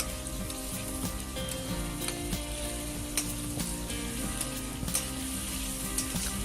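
Chopped onion, bay leaf, whole spices and green chili paste fry in oil for beef bhuna, giving a steady rain-like sizzle with occasional stirring clicks and a low background hum.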